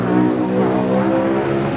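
Engine of a race car in a video racing game played on a Lenovo V14 laptop with an AMD Athlon 3050, a steady loud revving drone with dense harmonics lasting under two seconds, no voices.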